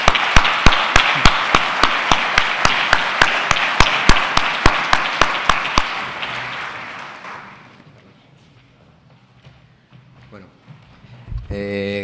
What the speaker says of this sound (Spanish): Un aplauso muy fuerte y muchas gracias.